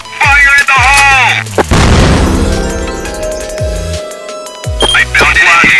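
A loud grenade blast bursting mid-clip in the shooter Crossfire, with a sharp crack and rumbling decay, set among other game sounds and brief effects before and after.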